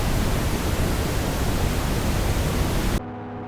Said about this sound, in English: This kind of noise is called brown noise. It's still a bit, well, warmer than pink noise. Let's listen to these three types of noise.